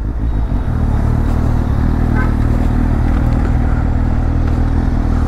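A Suzuki GSX-S750 motorcycle engine roars loudly and continuously at close range in first gear, a heavy, rough drone with wind noise throughout.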